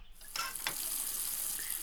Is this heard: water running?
yes